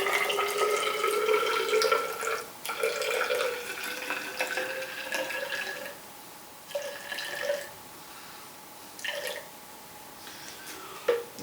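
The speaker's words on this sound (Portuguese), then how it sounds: "Eu vou colocar água na proveta até um volume inicial" Water dyed yellow is poured into a graduated cylinder, a close trickling, gurgling pour that rises in pitch as the cylinder fills, with several short stop-and-start additions near the end.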